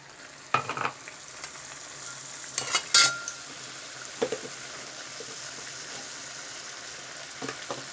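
Chicken frying in a pan with ginger-garlic paste gives a quiet, steady sizzle, broken by a few brief clinks and stirring scrapes.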